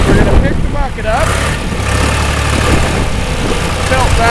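A John Deere 2240 tractor engine runs steadily just after a cold start, a low continuous idle rumble under intermittent nearby talk.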